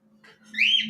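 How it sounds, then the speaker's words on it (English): A single brief bird call, a bright rising whistle-like squawk, sounds close and fairly loud after a faint lower chirp. "Bird! Bird!"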